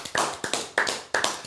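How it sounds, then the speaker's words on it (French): Four sharp hand claps in a quick, even rhythm, close and fairly loud, with no talking over them. "Ouais, ça s'applaudit"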